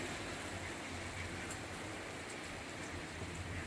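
Steady rain falling on a rainy morning in Edirne, a soft continuous hiss of drops on surfaces, fairly faint and unbroken throughout, with no voices.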